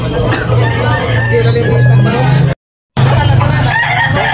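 At a Cebu gamecock market, roosters crow loudly over a dense, noisy din of other fowl and a crowd, and a brief silent gap breaks the sound partway through.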